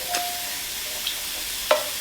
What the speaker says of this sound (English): Oh, I love the good sizzle of an onion.